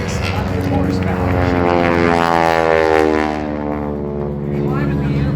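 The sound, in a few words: propeller aerobatic airplane flying at an airshow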